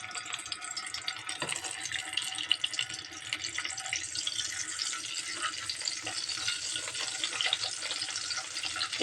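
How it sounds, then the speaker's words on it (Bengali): Eggs frying in oil with steady, close sizzling and crackling, a continuous hiss with small pops that holds evenly throughout. "এখন ডিমগুলোকে ভেজে নেব"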